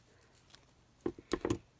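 Small scissors snip the loose threads on the back of a burlap ribbon in a few quick, close clicks, with a short cluster of cuts near the end of an otherwise quiet stretch.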